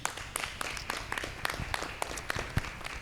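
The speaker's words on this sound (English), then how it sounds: "let's give her a round of applause as she comes forward" A small audience at a mayor's citizen forum gives light, scattered applause, with individual claps clearly separated and fairly quiet throughout.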